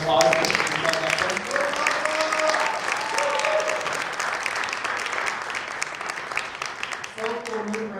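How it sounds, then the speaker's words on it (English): A crowd at a student general election debate applauds presidential candidates, sustained clapping that stays loud and dense for about seven seconds before thinning out near the end. "Let's give them all a round of applause."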